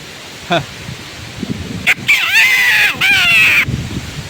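A pakakak horn mimics a rooster's crow in a wavering, rising and falling call, preceded by a short toot and some background noise in strong wind.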